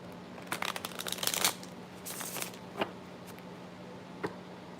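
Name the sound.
shuffling tarot cards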